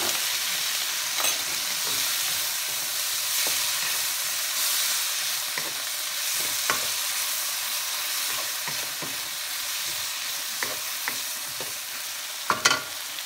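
Garlic, ginger and soy sauce sizzle and hiss steadily in a frying pan for fish escabeche, with occasional louder pops and stirring clatters.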